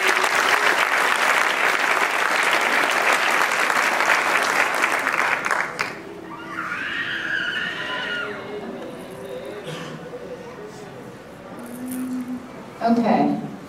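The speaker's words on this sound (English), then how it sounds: "so I'd like to give them a round of applause too" Loud, dense applause at the PMSF 2014 conference fills the first half, then breaks off abruptly, leaving scattered voices and room noise.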